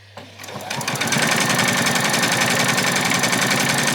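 A sewing machine stitches an apron, starting after a brief quiet moment and then running steadily with a fast, close, continuous mechanical chatter that stays loud to the end, with no talking.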